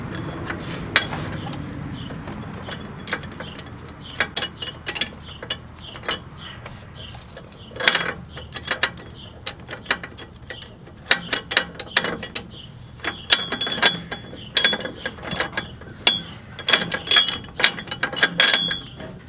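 A hand ratchet tightens air spring bracket bolts on a 2013 Chevy Silverado, producing close, irregular bursts of sharp pawl clicks with pauses between strokes and no talking.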